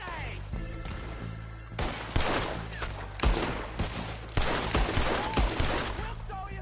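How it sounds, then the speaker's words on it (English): Gunfire in a shootout in the video game Red Dead Redemption 2, repeated loud shots and bursts over a busy background of music and shouting voices. "Arthur, we got some trouble here! Shoot, for Christ's sake!"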